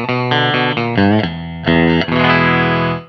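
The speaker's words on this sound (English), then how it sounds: "The bridge pickup sounds like this." Electric guitar on its bridge pickup driven through a Toyroom FX Norfleet fuzz pedal into a 2x12 greenback-loaded cabinet, playing a few loud, thick, sustained fuzzy chords and notes, close and alone.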